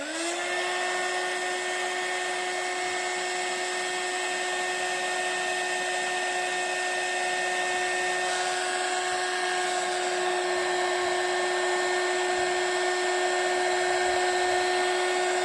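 A heat tool runs continuously while heating embossing powder on a handmade card, a steady whirring blower hum with a high whine that holds level and close for the whole stretch, with no talking.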